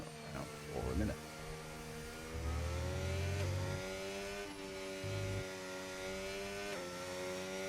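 F1 cars, including Aston Martin, Red Bull, Haas and Ferrari, run on the Belgium track in the F1 25 racing game, producing a steady, smoothly shifting high engine whine with rising and falling pitch, and a voice talking over it.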